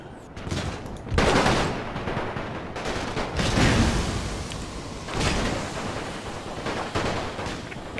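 Rifle volleys crack in the strategy game Napoleon Total War with a WWI mod, as soldier lines and canister fire go off in repeated bursts, loud crackling salvos swelling and fading over several seconds with no talk.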